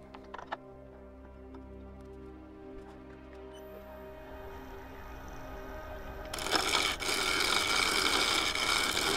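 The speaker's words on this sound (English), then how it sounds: "I'm using the wing of the bowl gouge up on that tip" A bowl gouge cuts wood on a lathe, starting as a steady hum with light scraping, then growing into a loud, continuous rasping shear of push cuts for the last few seconds.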